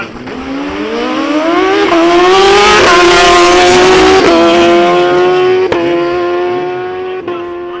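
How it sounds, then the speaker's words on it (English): A turbocharged Hayabusa drag racing against a naturally aspirated BMW RR on a drag strip, one loud engine screaming up through the gears with rising pitch and sharp upshift breaks, swelling close and then fading slightly as it pulls away. "That's a turbocharged Hayabusa in the left-hand lane up against the aspirated BMW"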